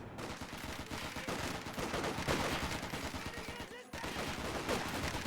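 Garrisoned infantry firing in the Company of Heroes 2 battle: dense, continuous rattling machine-gun and rifle fire with overlapping bursts, briefly cut off near the end before resuming, with faint talk underneath.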